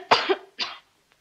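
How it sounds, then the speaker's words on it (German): A woman coughs on request during a medical examination in a period drama: two short, close coughs in quick succession, the first stronger, then silence. "Darf ich bitten, Majestät, zu husten?"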